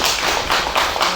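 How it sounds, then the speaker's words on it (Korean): Audience applause at a film festival talk event in a cinema, a steady dense patter of many hands clapping throughout, loud and close with no voices. "박수 부탁드릴게요."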